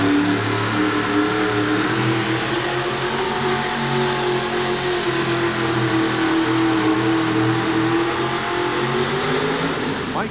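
Monster truck engine roaring at high revs as it pulls a sled in a 1989 USHRA Worcester arena event, loud and sustained with a slowly shifting pitch for the full duration.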